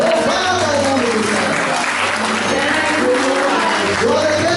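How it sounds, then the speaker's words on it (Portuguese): A church congregation at a preaching service claps steadily and loudly in praise, with voices calling out over the applause throughout. "Vamos dar uma salva de palmas"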